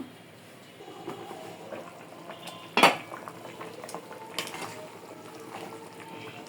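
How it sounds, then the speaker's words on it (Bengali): A lid lands on a cooking pot with one sharp metallic clank, over a low simmering bubble and faint kitchen clatter, as cauliflower and potato cook with river rita fish. "ঢাকনা দিয়ে দেবো পনেরো মিনিটের জন্য"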